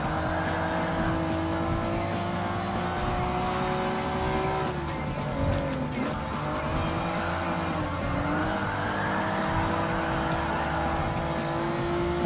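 A first-generation Honda NSX Type R race car in Gran Turismo Sport drones steadily at high revs, its engine note rising and dipping through corners with faint tire squeal, continuous and close.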